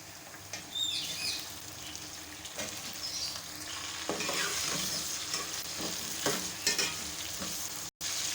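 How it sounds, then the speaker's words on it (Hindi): Beef sizzles and crackles in a pot with onions for biryani at a soft level, with occasional scrapes and clinks of a stirring spoon and no talking. "तो ये देखिए गोश्त को हमने इतना फ्राई किया है"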